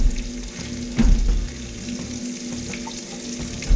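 Red drum fish fillet searing in a hot pan, a steady close sizzle with a few louder pops and crackles near the start and end.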